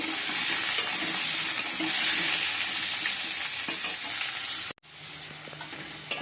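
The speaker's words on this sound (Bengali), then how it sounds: "এগুলো ভেজে নেবো ভালো করে লাল লাল করে" Potatoes, parboiled and now browning in a pan alongside cabbage, sizzle loudly and steadily with a bright hiss and a few scraping stirs, the frying dropping briefly quieter near the end.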